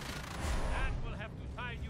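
An explosion in the Evolve video game: a deep rumbling blast with crackling gunfire-like bursts, moderately loud amid game noise, with voices speaking briefly over it.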